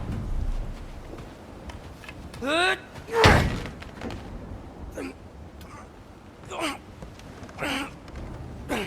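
In God of War Ragnarok, a frozen door is forced open: a heavy slam and thud land midway, surrounded by strained grunts and gasps of effort and a few lighter knocks over low ambient rumble.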